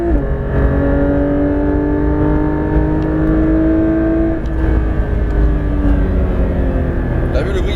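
A Porsche 991 GT3 RS on the Dijon-Prenois race circuit, heard from inside, its engine droning loud and steady as revs climb through a gear and settle, with talk over it.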